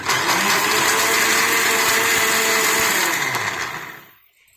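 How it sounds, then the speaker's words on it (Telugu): A mixer grinder whirs at full speed, grinding curry leaves and tamarind into a spice powder, a loud, steady motor roar for about four seconds that then winds down into silence. "ఇప్పుడు మొత్తం మిక్సీ పట్టుకోవాలి"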